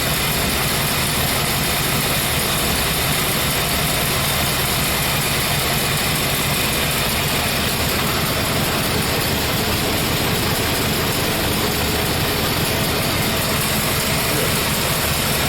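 A 1964 Chevrolet Impala with a 327 V8 idles at low rpm during cam break-in, a steady, close, unbroken engine rumble with no talk over it.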